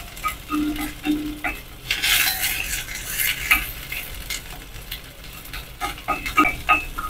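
Spring onion stir-fried with ginger in a pan for stewed chicken with Huadiao wine: a close spatula scrapes and clatters in uneven strokes over a soft sizzle, with one louder burst of hissing partway through.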